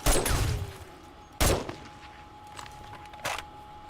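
Shotgun blasts in the video game 7 Days To Die: one loud close shot at the start, a second sharp blast mid-way and a fainter third near the end, with quiet gaps between.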